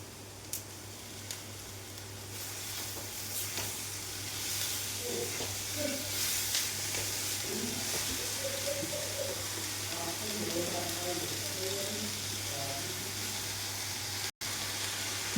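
Drumstick (moringa) pulp cooks in a pan for thoran with a soft, continuous hiss and gentle sizzle, while a voice talks quietly through the middle stretch.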